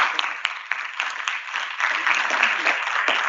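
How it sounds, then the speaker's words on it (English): Applause from a hall audience as best-team debate winners are called up at an economics conclave in Kolkata. The clapping is moderate and steady and carries on throughout, with a little background chatter. "A round of applause"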